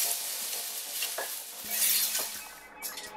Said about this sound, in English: all we are doing is waiting for the vegetables to finish frying up.